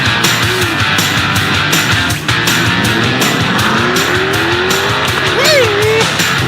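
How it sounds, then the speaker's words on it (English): Race cars in an auto race scream past at around 180 to 190 miles an hour on Pennsylvania Avenue, engines roaring loudly and continuously with rising and falling pitch sweeps as they pass, tires squealing near the end. "this is Bud Dinker talking about their car's going to be going 180 to 190 miles an hour down Pennsylvania Avenue"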